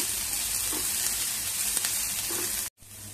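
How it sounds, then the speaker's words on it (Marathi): Half an onion frying in hot oil for sambar, a steady close hiss and sizzle that cuts off abruptly near the end and then returns faintly. "आपण अर्धा कांदा भाजण्यासाठी घालूया"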